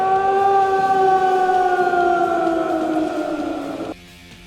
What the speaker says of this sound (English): That's the ghostly I have gas noise that comes out of her.